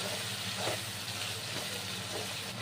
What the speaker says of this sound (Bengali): আর এবারে সবগুলোই ভালো করে কষিয়ে নিতে হবে।